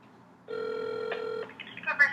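A single ringback tone sounds for about a second over a phone on speakerphone calling a veterinary animal hospital in LA, followed by faint clicks and line noise.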